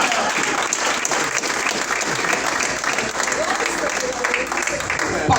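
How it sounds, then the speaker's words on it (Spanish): A church congregation claps in sustained, dense applause that fills the room, with voices mixed in underneath. "Denle ese aplauso a Jesús."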